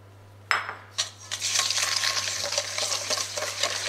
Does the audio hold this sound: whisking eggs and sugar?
yes